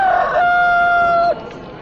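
A rooster crows once in a long, clear, sustained call that holds steady before cutting off, loud and close, with no voices, heard in a Khmer-language film about Jesus of Nazareth.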